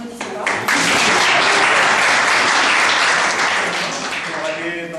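An audience at a French talk claps loudly for about five seconds, a dense steady burst of applause that swells quickly after a brief start and then slowly tapers.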